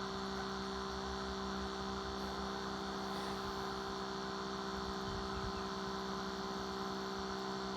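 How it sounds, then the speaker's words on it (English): A steady, low electrical hum from a small Fraybill aquarium aerator pump runs unchanged throughout, quiet and continuous. "that is a little Fraybill aerator"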